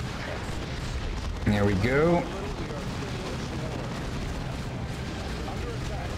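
Grenade explosions in the real-time strategy game Dawn of War 2 boom and rumble through a steady, dense battle din, with a short burst of spoken voice in the middle.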